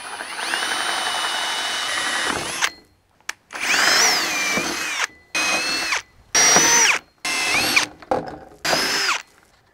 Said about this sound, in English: So I'm just gonna mark those holes out and then we'll drill them out.